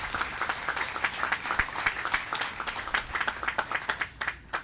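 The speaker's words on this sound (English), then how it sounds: "So let's give yourself a round of applause for being here." Audience applause at an outdoor Veterans Day ceremony in Norwalk, California, a steady patter of many hands clapping that tapers off near the end.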